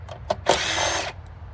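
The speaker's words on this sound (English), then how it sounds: "next you're going to remove 3 number 10 or 10 millimeter nuts and bolts" A power tool briefly whirs on a 10 mm nut and bolt on a Subaru Sambar, a single burst of about half a second after a couple of clicks, near and loud.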